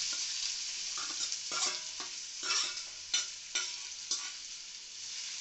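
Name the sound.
onion frying in oil with cumin, stirred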